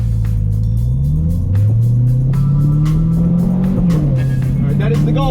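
A Corvette engine revs loudly on a cold-day warm-up lap around a track, its pitch climbing steadily through the gears and then dipping. Faint tire noise runs under the close, continuous engine roar.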